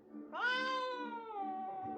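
A stray cat out in the snow gives one long, drawn-out meow that rises and then slowly falls, close and clear against a quiet background.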